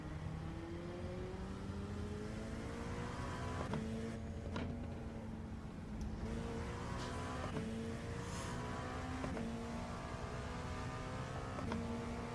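LMP2 prototype race cars roar continuously in the iRacing sim at Spa, engines rising in pitch through repeated upshifts as one closes on and passes a slower class car, with steady engine drone throughout.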